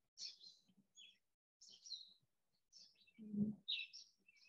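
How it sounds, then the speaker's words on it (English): Birds singing outdoors, faint separate chirps and short tweeting phrases repeating in bursts, with a soft low thump in between and no speech. "I love bird song"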